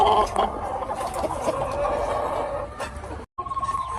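Gilliam Roundhead cross chickens, roosters and hens, cluck and mutter together in a loud, continuous chorus at feeding time, cut by a brief gap near the end.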